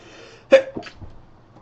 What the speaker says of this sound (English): Excuse me, I just need to sneeze.